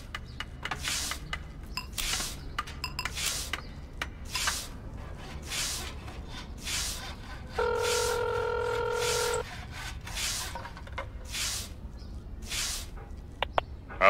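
A telephone number is dialed in the video game Crowns and Pawns, with a short run of steady keypad tones partway through amid soft clicks and footstep-like shuffles in a quiet scene.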